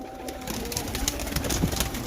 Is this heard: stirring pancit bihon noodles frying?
no